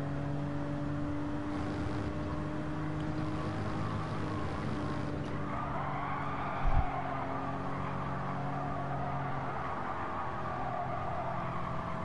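Nissan 300ZX race car engine in Gran Turismo 7, a steady droning hum with sustained harmonic tones throughout, fairly quiet, with one brief low thump midway.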